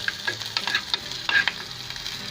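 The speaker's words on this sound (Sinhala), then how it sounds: "සේර, කරපිංචා ඉතින් ඔක්කොම දාගෙන මේ විදිහට ටිකක් ටෙම්පරේචර් කරගන්න ඕනේ." Lemongrass and curry leaves are tempered in hot oil in a frying pan, giving sharp crackling sizzles and pops with a few stirring scrapes over a couple of seconds and no voices.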